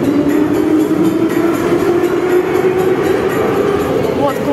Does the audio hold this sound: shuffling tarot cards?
no